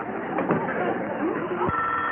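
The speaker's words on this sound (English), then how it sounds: "why don't you answer the phone?" A telephone bell rings in a busy room, its ring mixed with background voices and murmur throughout the short stretch.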